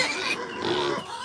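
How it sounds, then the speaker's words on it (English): Pig grunting up close, a short burst of rough, snuffling grunts with a noisy, breathy texture, heard alone. "I have 3 of these little pigs."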